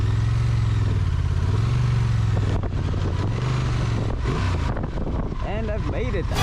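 A Honda Transalp XL750 adventure motorcycle labors up a steep off-road hill, its engine rising and falling in pitch through revs over constant wind buffeting the microphone, with rough clattering toward the end.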